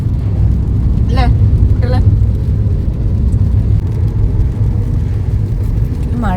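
A motorcycle rides along a road in the Coimbatore area, giving a continuous loud road-and-engine roar with wind rush that stays even throughout, with a few faint high chirps on top.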